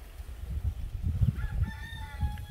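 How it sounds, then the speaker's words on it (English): Several roosters crow from a distance in an outdoor Cayman Islands setting, their drawn-out calls overlapping above a steady rumble of wind and low background noise. "Y'all hear the roosters?"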